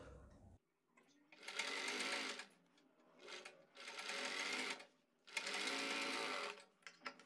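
A sewing machine stitches piping onto a garment sleeve in three separate close, steady runs of whirring motor and needle chatter, with quiet pauses between them.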